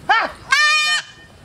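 A goat bleats twice close by: a short call, then a longer, wavering one.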